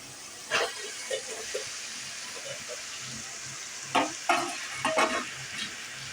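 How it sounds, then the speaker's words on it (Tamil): Boiled pasta stirred into sautéing onion and tomato in a pan, a quiet sizzle with a few distinct scrapes and clatters of the spoon, close and fairly faint. "வெங்காய தக்காளியோடையே சேர்த்து நல்லா வதக்கி விட்டுப்போம்"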